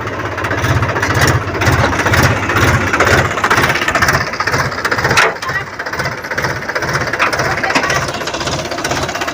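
A tractor engine running in a village, a loud, steady, rhythmic chugging with a pulsing knock that dips briefly midway and then carries on.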